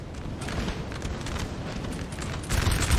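Artillery guns firing on a Napoleon Total War battlefield, a steady rumble of distant cannon booms that swells louder and heavier near the end.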